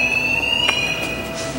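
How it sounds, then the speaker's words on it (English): Proximity alarm on a museum exhibit of Buddhist art, a steady high electronic tone ringing continuously in a quiet gallery, with a brief louder burst partway through. "Every time you get like within 5 feet of this thing, there's an alarm that rings."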